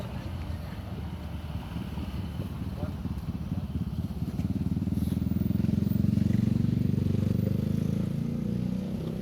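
Bangkok street traffic with motorcycles, a low continuous engine rumble that grows louder and closer midway, with wind noise on the microphone.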